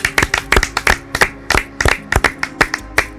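A congregation claps in fast, irregular bursts at a church service acclaiming God, sharp hand claps crowding together close and loud with no talk.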